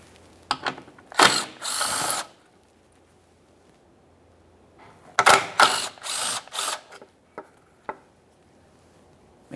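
A ratchet wrench backing out 10mm shield mounting bolts under a Toyota Sienna (3.5L V6), quick clicking bursts in two groups with quiet gaps, close up.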